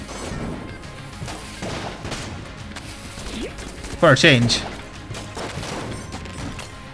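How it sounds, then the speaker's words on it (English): Gunfire and explosions from the Enter the Gungeon video game pop and crack under continuous talk, with one sharp, louder burst near the middle over steady game noise. "I probably should have been shot by, or blown up by my own explosion there."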